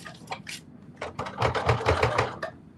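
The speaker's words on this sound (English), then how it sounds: "The struggle is to sew through all these layers." A sewing machine labors through about eight layers of slipper fabric, giving close, uneven bursts of rapid stitching separated by brief pauses.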